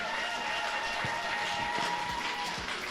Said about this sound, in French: On peut acclamer pour le Seigneur, Jésus le roi des rois qui est la tête de l'église.